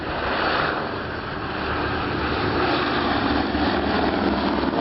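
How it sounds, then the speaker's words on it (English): Boeing B-17 bomber with Wright Cyclone radial engines taxiing along the runway at a 1986 air show in England, a steady, somewhat distant propeller and engine drone heard on its own. "that's a B-17. No, they're taxiing along the runway."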